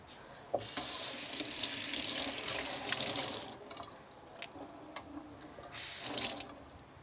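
Tap water runs over a freshly picked bell pepper in a sink, a steady close splashing stream that stops briefly and then resumes, with no talking.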